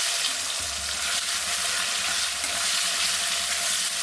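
Chicken pieces coated in salt, turmeric and spices sizzle and crackle steadily in a hot pan, a constant dense frying hiss with occasional stirring, no voices.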